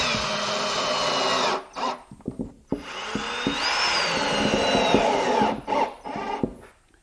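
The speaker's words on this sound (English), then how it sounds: "I'm going to be driving 3/4 inch screws from the inside of the cabinet to hold that false front in" A power drill drives 3/4 inch screws from inside a wooden cabinet to fix a false front, heard as several close whirring bursts separated by short pauses.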